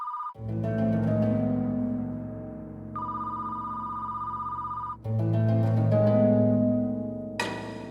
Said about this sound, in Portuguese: O telefone da Delegacia de Homicídios de Novo Hamburgo tocou cedo no dia 4 de setembro de 2017.